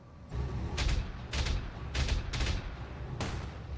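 Turret gunfire in the mech combat game Battletech: five heavy, booming bursts of shots at roughly half-second to one-second intervals, loud and close, with no voice over them.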